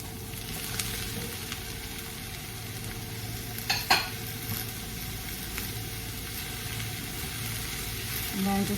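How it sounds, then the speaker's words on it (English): Vegetables with calabacita squash sautéing in a pan, a steady low sizzle broken by a few sharp clatters of stirring midway, fairly close and quiet. "once you get a nice saute on them, you want to add the calabacita in it"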